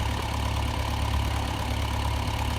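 Tractor engine idling at a farm, a steady low rumbling drone that holds even and continuous, fairly close, with no voices.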